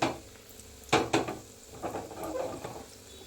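Gulab jamun frying in oil, a soft bubbling sizzle broken by a few sharp clinks of a utensil against the pan, close and fairly quiet with no voices.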